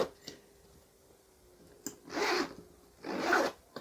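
Two quick zipper pulls open the zipped pockets of a doll carrier bag for ball-jointed dolls, each a short rasp close to the mic, with a few faint clicks and handling noises around them.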